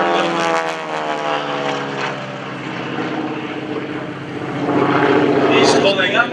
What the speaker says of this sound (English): Bringing the airplane around once again, hanging by the belts. All that radio engine music up front there.